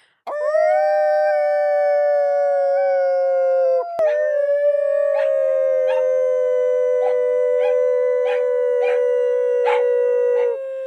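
A dog howls along with people, long sustained loud wavering howls that start together, break once near the middle, then resume with rhythmic pulsing yips layered over the drawn-out tone.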